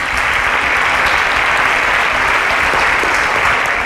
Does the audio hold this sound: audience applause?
yes